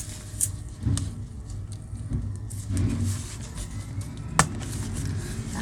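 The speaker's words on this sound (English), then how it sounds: "Garbage truck is here, in case you're wondering." A garbage truck outside, its engine rumbling and revving at a moderate distance with a few sharp clanks and bangs, heard continuously with no talk.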